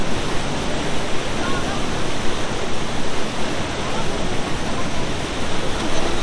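Sprite Falls in Majayjay, Laguna roars as a loud, unbroken wash of falling water up close, filling the whole stretch.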